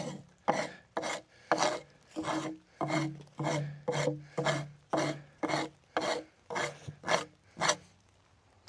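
Rhythmic scraping strokes rasp across a cedar log in a forest, about a dozen evenly spaced back-and-forth pulls, close and fairly loud, with no voices over them.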